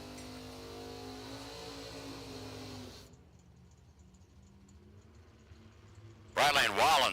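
A Camaro and a dragster idling and revving at a drag strip before launching, a loud engine drone that cuts away and leaves quiet, then a sudden loud burst of engine noise, heard under a public-address announcer's voice.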